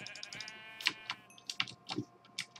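Sheep in the video game Minecraft bleat several times, short wavering cries scattered irregularly at moderate volume over a quiet background with faint clicks.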